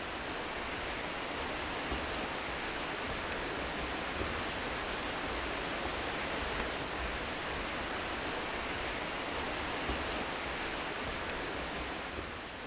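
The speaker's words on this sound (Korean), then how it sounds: "물소리 좋다" Steady rushing water fills the whole stretch, a constant broadband wash like a nearby stream or small waterfall, with no voices.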